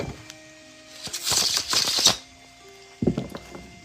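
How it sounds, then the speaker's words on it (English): A deck of playing cards given a bridge shuffle: a fast riffle of flapping cards in a tight burst, followed by a short soft cascade as the cards bridge back together, close and clear. "The bridge shuffle."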